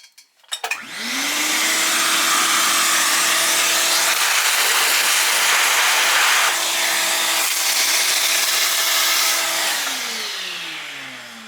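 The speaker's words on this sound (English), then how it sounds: "putting the vacuum on a foot pedal" A shop vacuum on a foot pedal beside a Bridgeport milling machine kicks on after a few clicks, roaring loudly with a steady whine, then spins down at the end.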